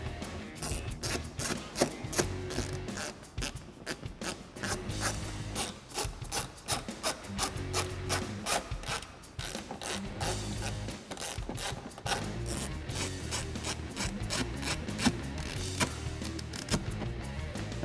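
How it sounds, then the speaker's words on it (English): A 1/4-inch drive ratchet with a Phillips bit turning screws while reinstalling a fender and bumper on a 2005-2009 Mustang, giving steady rapid clicking and rasping, continuous and close up. "I'll take my 1/4" drive ratchet with a Phillips head bit on it so I can get in here."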